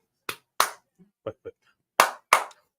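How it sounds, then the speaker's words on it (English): A man claps his hands several times in an uneven pattern of sharp, close smacks: two loud claps, a couple of softer ones, then two more loud claps, with silence between. "I'm gonna give you some claps on a Ric Flair"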